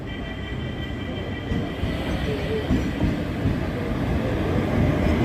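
A train at Thiruvananthapuram Central railway station, a continuous rumbling rail noise with a faint squeal that grows slightly louder over the clip, with a busy platform murmur around it.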